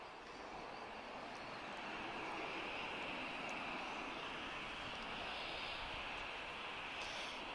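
An Airbus A321neo arriving at Lisbon Airport from London Gatwick gives a distant, steady jet roar that swells slightly and holds as a broad, continuous rumble.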